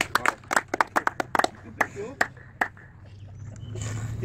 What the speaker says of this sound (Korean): 용병 3명 박수 안 치나?